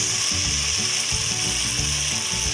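Pork fat and fish sauce sizzle steadily in a hot pan while sautéing bitter melon, a loud, close, hissing fry with faint scraping and clinking of a utensil underneath.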